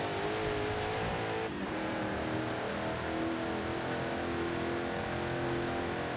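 A video game truck engine droning steadily under load as it accelerates, a dense, constant roar with one brief dip around a gear change, close and loud throughout.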